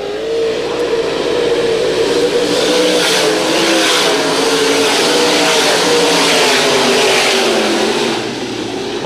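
Race cars circle a dirt oval at the 1985 Tuscarora 50. Their engines roar loud and close, a continuous revving drone that rises and falls as the field passes.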